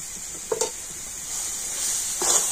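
Fried dry fruits tip into a sticky date mixture in a pan, a steady soft sizzle with two brief clattering bumps of spoon and pan near the start and end.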